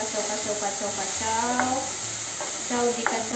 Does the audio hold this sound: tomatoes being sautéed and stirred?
yes